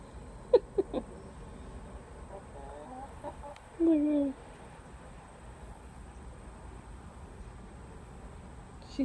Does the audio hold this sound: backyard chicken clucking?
yes